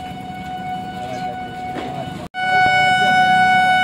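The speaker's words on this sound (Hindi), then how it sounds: "देख सकते हो ट्रेन आ रही" A train approaching a closed level crossing gate sounds a loud, sustained horn over the rumble of the tracks. The horn blares on after a brief cutoff, and no speech is heard.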